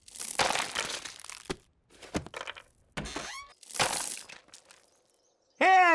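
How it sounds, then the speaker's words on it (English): Pebbles thrown against a glass window in an Adventure Time cartoon scene, giving a run of sharp crackling taps and knocks in separated bursts, with a bright tonal ring near the end. "Throw pebbles at the glass to get his attention."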